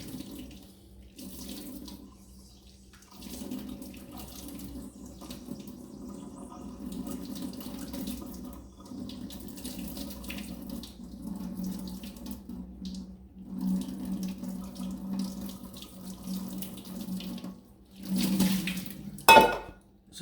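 Hot boiling water poured from above onto the skin of a sheepshead fish, a continuous splashing stream running for most of the stretch with brief pauses, loud and close.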